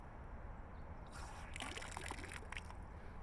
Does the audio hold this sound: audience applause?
no